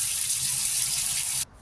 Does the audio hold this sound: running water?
yes